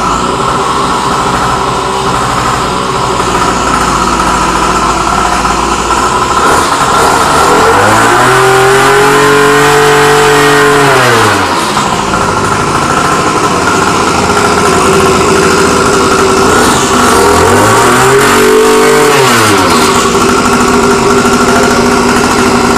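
A Blaze 49cc two-stroke gas motor scooter engine runs loud and close, buzzing steadily at idle and rising in pitch through two distinct revs before settling back down.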